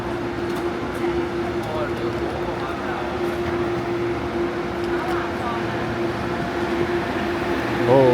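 A train sits at a station platform on the Hong Kong airport-to-Kowloon line, giving off a steady, loud electrical hum and ventilation drone that holds for the whole stretch.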